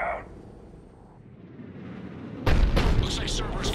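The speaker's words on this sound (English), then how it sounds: "Looks like Cerberus got that cannon operational, Commander." Cerberus cannon firing in the video game Mass Effect 3, a sudden loud blast after a quiet stretch that continues as a rumbling, crackling burst of heavy gunfire.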